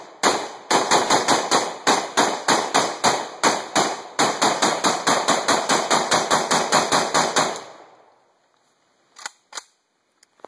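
An AK-74 Kalashnikov rifle is bump fired from the shoulder, loosing a long rapid string of sharp, loud shots for about seven seconds. After a brief quiet, a couple of faint clicks follow.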